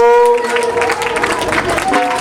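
A crowd applauds at a Teej festival fair in a Punjabi village, clapping rising briefly under a sustained musical tone and chatter, moderately loud and fairly close.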